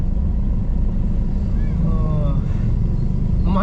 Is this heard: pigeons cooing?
no